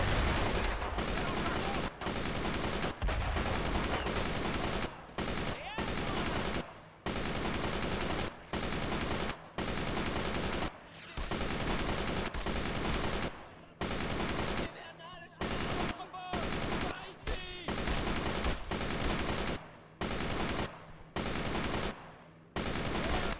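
Machine gun fire in the World War II shooter game Brothers in Arms, loud sustained bursts that stop and restart repeatedly in short gaps, with a voice faintly under the firing.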